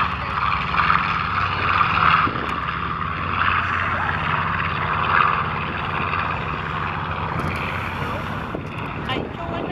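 A B-25 Mitchell propeller bomber departs at the Sun 'n Fun 2018 fly-in, its engine drone rising and falling at moderate distance, mixed with wind buffeting on the microphone.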